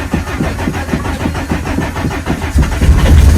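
A diesel engine is cranked over on starting fluid with a rapid, loud, rhythmic chugging, close by, then catches and settles into a heavier low rumble at the end.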